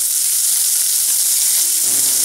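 Onion and green chilies sautéing in a pan for a cabbage and green peas sabji, giving a constant loud sizzling hiss with a faint scrape of stirring near the end.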